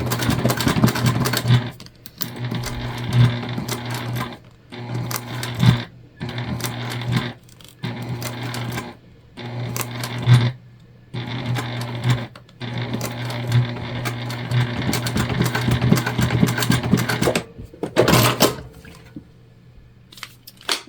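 A sewing machine stitches a seam in clear vinyl, whirring steadily in bursts of several seconds that are broken by short stops, loud and close with a faint mechanical knock in each run.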